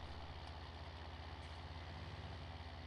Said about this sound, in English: I do like the sound this John Deere makes.